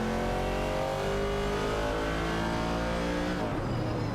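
Race cars speeding in a racing video game, engines droning steadily at high revs with a shifting pitch and a change near the end, continuous and fairly close, no talk.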